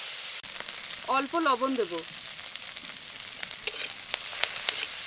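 Small shrimp frying in mustard oil give a steady close sizzle and crackle, with someone speaking briefly over it early on and faint clinks of stirring later.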